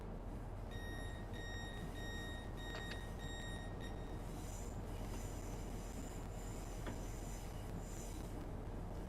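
Class 801 train standing at Peterborough station in a train simulator, with a steady low engine hum, repeated electronic tones and beeps, and faint clanks.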